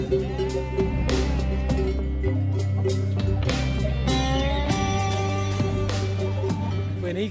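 Black-nosed sheep on a mountain alpine pasture, several wavering bleats close by over a sustained low tonal hum, some overlapping calls through the stretch.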